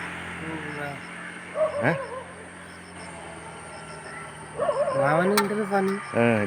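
Dogs bark and yelp in short bursts outdoors, with rising whiny calls in two clusters, while people talk nearby.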